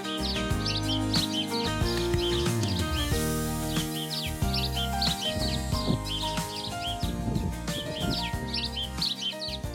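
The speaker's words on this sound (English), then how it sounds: "They thrive in habitats around human-made structures and are recognized for their cheerful chirping." House sparrows chirp continuously in busy overlapping tweets over a steady bed of layered background music, the bird calls bright and close throughout.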